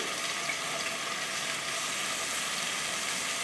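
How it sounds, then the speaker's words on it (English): Meat for carne guisada sizzling in a hot pan on near-high heat, an even, steady frying hiss throughout at moderate level, with no voices. "I want to get this meat in here, and I want it to sear"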